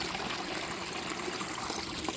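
Water trickles steadily in a partly frozen koi pond, a soft continuous burble with no voices over it.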